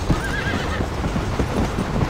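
Horse in the Red Dead Redemption video game, with rapid clip-clop hoofbeats of a gallop and a sharp neigh early on, clear and close with no talking.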